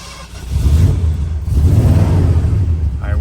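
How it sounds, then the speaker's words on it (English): A 1978 Ford F150 XLT pickup truck engine starts and settles into a low rumbling idle, steady and close, with no voice in the clip. "Just gonna start up our 78 F150."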